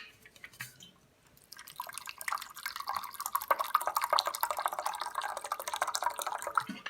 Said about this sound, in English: And then I'm going to add that same water in.